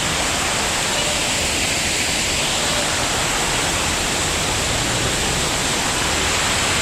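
A forest waterfall pours with a dense, constant roar of rushing water, loud and unbroken from start to finish, with no distinct individual sounds standing out.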